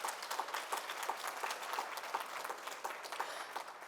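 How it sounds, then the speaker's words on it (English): Applause from a conference audience at a government service excellence awards event in Jamaica, a sustained patter of many hands clapping at moderate distance, fairly quiet and even, with no voices over it. "Let's clap them."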